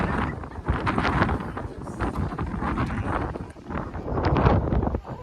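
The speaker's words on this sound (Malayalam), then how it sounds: "നല്ല കാറ്റുണ്ട്" Strong sea wind at Kanyakumari roars against the microphone in steady, gusting waves, a loud continuous rush with no voices.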